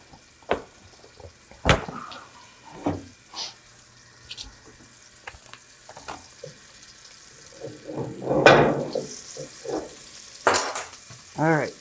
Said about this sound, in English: Sounds like the butter is melting.